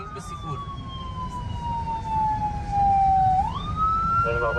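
An ambulance siren sounds nearby in Bat Yam, Israel, with a slowly falling tone that jumps back up, over engine rumble and road noise.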